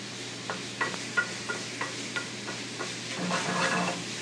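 Minced celery and onions cook in a pan with a steady sizzle, while a utensil scrapes and stirs the bottom in regular strokes; no one speaks.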